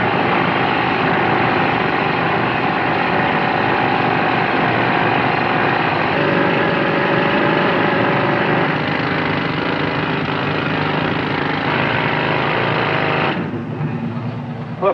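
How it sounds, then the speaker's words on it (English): A rock drill runs continuously at a blasting site, a loud steady mechanical roar and rattle that holds for most of the stretch before cutting off sharply near the end. "Start drilling."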